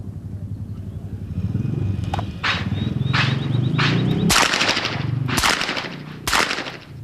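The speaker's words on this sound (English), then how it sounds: "Nice follow through and very little recoil with that revolver" Revolver shots fired at a target range from 25 yards: several loud, sharp cracks, at first spaced apart and then closer together, over a constant low rumbling background.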